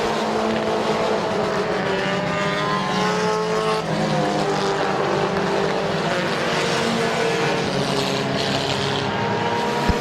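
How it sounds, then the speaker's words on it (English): Compact race cars racing at Midvale Speedway, several engines roaring and revving loudly together as they pass, with overlapping rising and falling engine pitches throughout. "Ryan Schreffler looking to take over that race lead from Josh Beal on the high side"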